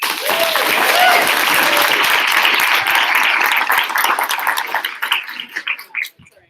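An audience applauds to welcome speaker Katie Hurley: loud, dense clapping that holds steady for several seconds, then thins into scattered claps and fades out.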